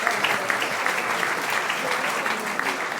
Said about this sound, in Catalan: Un aplaudiment, sisplau.